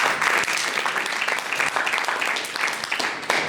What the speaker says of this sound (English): Perfect, give him a round of applause.